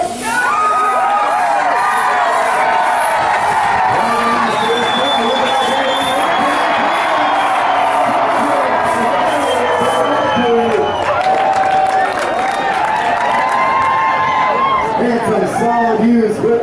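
A crowd cheers and shouts at the start of a race, loud and sustained, with children's yells and whoops mixed in and an announcer talking over the noise.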